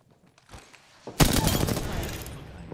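Gunfire in the battle-royale shooter Apex Legends: a quiet scuffle, then a loud, sustained volley of rapid shots close by that rings on for over a second.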